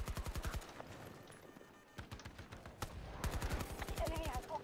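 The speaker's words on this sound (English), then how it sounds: "Sentry gun." Sentry gun in the Battlefield 2042 video game firing in rapid automatic bursts, loud and close, with sharp repeated shots in several volleys separated by brief pauses.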